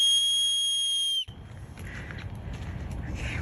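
An emergency whistle gives one loud, steady, shrill blast lasting about a second, cut off abruptly and followed by low rustling ambience.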